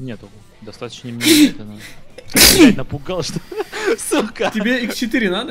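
Two loud, close sneezes burst out in quick succession amid rapid speech from players in a PlayerUnknown's Battlegrounds match, with voices before, between and after them.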